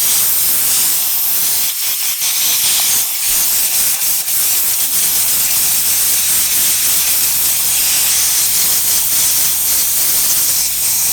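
A loud, steady hiss of rushing air runs throughout, broadband and unbroken like a compressor blowing, with a few brief dips early on.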